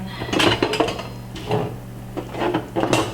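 Beef and potatoes in a spicy sauce are stirred in a metal pot, giving repeated close clanks and scrapes of a utensil against the sides in an uneven rhythm, with no talk.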